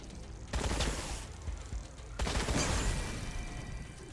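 Gunfire in the video game Wasteland 3, two dense bursts of rapid shots that start abruptly and hold at a steady moderate level with a short gap between them.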